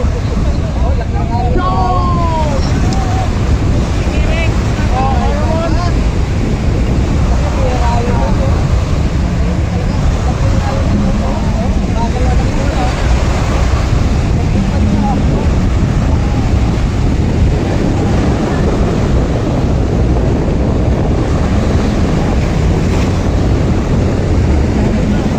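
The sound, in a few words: large waves and wind on open water during boat race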